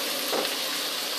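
Fried tofu being stirred in a frying pan while cooking stir-fried oyster mushrooms gives a steady, close sizzle and frying hiss with faint scraping throughout.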